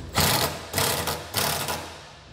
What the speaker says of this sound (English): Once everything's in place, you can tighten everything down. I'm using a 14mm socket.